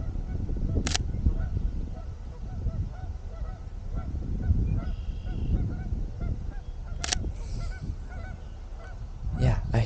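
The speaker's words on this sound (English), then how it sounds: "Yeah, I hear you, geese." Geese honk outdoors in Wisconsin wildlife habitat, a few sharp calls standing out at moderate distance over steady low outdoor rumble and background noise, with a cluster of honks near the end.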